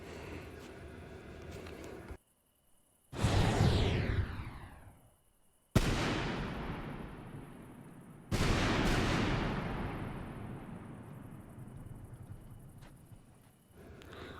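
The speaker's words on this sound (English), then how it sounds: "This is the new Vanguard rocket." A Vanguard rocket firework in the Fireworks Playground video game launches with a whooshing rush, then bursts in loud, sharp cracks. Long crackling, hissing tails fade out after each burst, with no voices.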